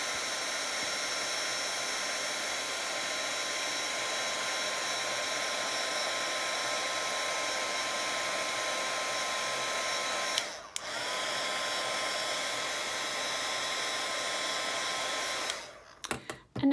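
A heat tool heat-setting stamped embossing, blowing as a steady close whooshing hum for most of the stretch, with a brief dip midway and sputtering as it shuts off near the end.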